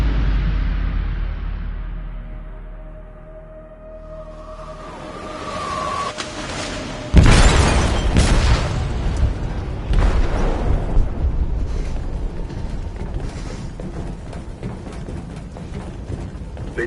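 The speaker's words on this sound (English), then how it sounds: "They detonated an explosive in the hold." A detonation goes off in the hold of a ship in Detroit Become Human: a low mechanical rumble builds, then a loud, sudden boom hits, followed by sustained crashing and roaring debris noise.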